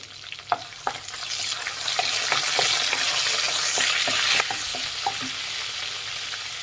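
Curry leaves and coriander frying in hot oil in a pan for tomato masala rice, a steady close sizzle broken by sharp clicks and scrapes of a stirring spoon.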